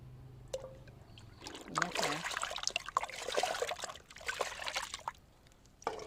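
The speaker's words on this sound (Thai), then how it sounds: "เทลงไปเลยค่ะ แบ่งครึ่งนะคะ" Mixed liquid fertilizer poured into a water bucket holding about ten litres, a steady splashing trickle that runs for several seconds and then fades, with someone speaking softly.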